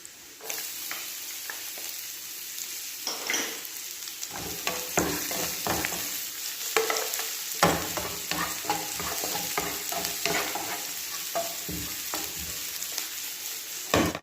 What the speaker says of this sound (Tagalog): Sunod natin yung ating sibuyas mga ka-recipe at nag-golden brown na yung ating garlic.